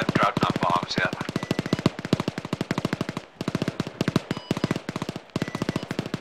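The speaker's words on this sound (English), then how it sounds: "whose machine gun is fucking going wild?" Sustained automatic machine gun fire in the Arma 3 military game, a dense, steady rapid burst rattling on for several seconds with only a couple of brief pauses, loud and close.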